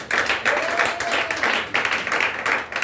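A church congregation claps and cheers in praise of the Lord Jesus, dense applause that pulses in waves for nearly three seconds, with a faint voice audible beneath it.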